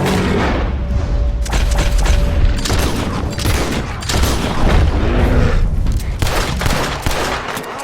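Heavy video game gunfire in Red Dead Redemption 2, with booming shots and fusillades rolling almost without pause, loud and busy throughout amid game action.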